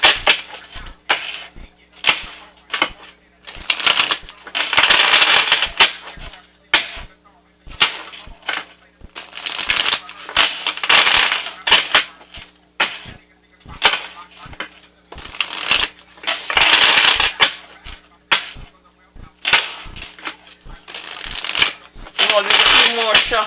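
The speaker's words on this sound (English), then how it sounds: "Shuffles" A deck of tarot cards is shuffled repeatedly in bursts of crisp riffling and slapping, close to the listener, with quiet pauses between rounds and a voice speaking at times.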